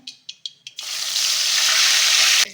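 Mustard seeds and curry leaves hit hot oil, sputtering in four quick pops and then a loud, steady sizzle that runs for about two seconds before cutting off sharply, close and with no talk.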